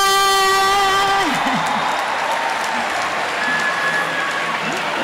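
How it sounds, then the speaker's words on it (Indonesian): An audience at a university orientation lecture breaks into sustained applause, loud and dense, while a voice speaks over the start of the clapping. "Ayo tepuk tangannya yang meriah semuanya."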